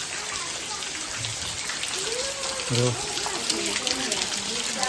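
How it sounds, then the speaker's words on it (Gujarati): Rain patters steadily on surfaces and drips from roof eaves, while someone talks over it at close range. "ફાઇનલી એવો વરસાદ આવી ગયો છે"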